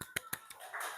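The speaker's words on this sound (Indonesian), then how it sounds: "Tepuk tangan untuk Fahmi." Brief applause for a student in a classroom: a few sharp separate claps close by, then a short burst of clapping near the end.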